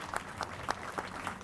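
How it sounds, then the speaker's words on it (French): Scattered applause from an audience at a thank-you celebration, quiet and distant, with a few separate claps standing out in a short burst. "sous vos applaudissements s'il vous plaît"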